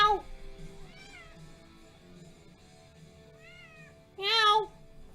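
Mystery, a pet cat, meows several times close by, wanting attention. Faint, thin calls are spaced through a quiet room, ending in a sudden loud, drawn-out meow.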